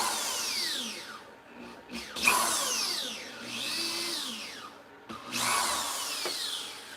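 A rotary power carving tool grinds into a skull in a steampunk art project, with repeated rising and falling whines of the bit cutting in and easing off, fairly close and steady, with no talking.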